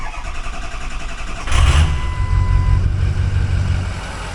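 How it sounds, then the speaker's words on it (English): A 2003 Ford F-250 with a 6.0L Powerstroke diesel cranks and fires up at about 1.5 seconds, settling into a loud, steady idle close by after a quieter lead-in. "Fires right up"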